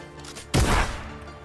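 A single loud gunshot in Fortnite, a sharp broadband burst that decays over about a second, with no talk.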